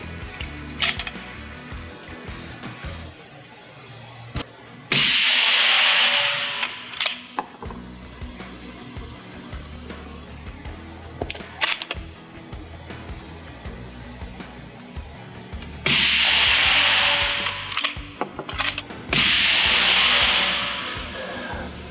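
Rifle shots fired at an outdoor range while zeroing a LEAP L12R scope at 100 yards: a few loud, sharp cracks with long pauses between them, plus quieter clicks and handling noise.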